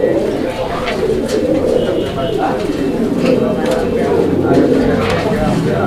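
Pigeons cooing repeatedly at close range, their low soft calls overlapping in a busy loft, with people talking in the background.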